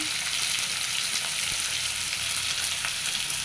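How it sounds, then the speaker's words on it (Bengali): Rohu fish head with turmeric and a little salt frying in hot oil, a dense, steady sizzle at close range with no gaps and faint occasional pops. "হালকা একটু লবণ দিয়ে ভেজে নেব"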